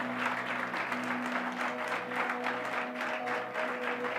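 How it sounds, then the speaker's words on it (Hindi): Loud, steady applause from a church conference audience fills the hall, dense clapping sustained throughout without pause over a faint tonal hum. "जोर से ताली बजाएंगे।"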